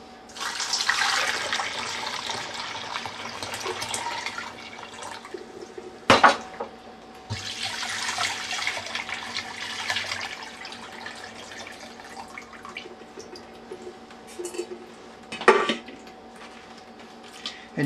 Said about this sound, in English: So we want to cover our chicken with water.